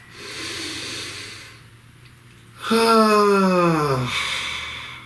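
A person inhales audibly and slowly, then lets out a long, breathy exhale with a brief throaty tone, close to the microphone in a quiet room.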